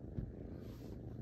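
A pet cat purrs faintly and close by, a soft, continuous low rumble with one slightly louder pulse near the start.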